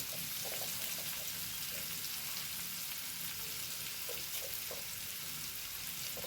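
Onions sautéing with salt in a pan for a chickpea fry, giving a steady close sizzle and crackle with a few soft stirring clinks, no voices.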